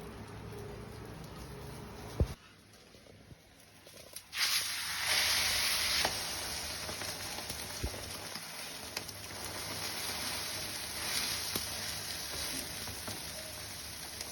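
Rayalaseema-style egg karam dosa roasting on a hot pan, a soft steady sizzle with a louder hiss rising partway through, then settling into a continuous low crackle.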